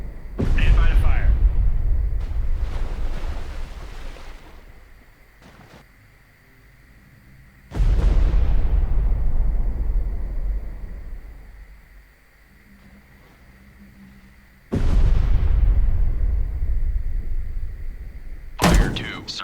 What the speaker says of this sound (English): Ready depth charges, medium pattern.